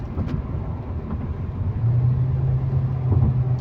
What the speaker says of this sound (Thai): เดี๋ยวผมต้องเข้าเกียร์ต่ำแล้ว